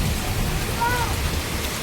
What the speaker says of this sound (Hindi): आज हो रही है बढ़िया वाली बारिश, बहुत तेज़ बारिश है, बहुत तेज़।